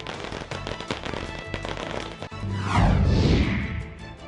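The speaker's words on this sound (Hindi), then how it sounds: "मोदी के दिल्ली आने पर बीजेपी दफ्तर में जमकर पटाखे फूटे" Firecrackers bursting in a rapid crackling string at a BJP party office celebration, sharp pops at first, then a louder swelling roar of dense bursts with a whistling rocket sweep.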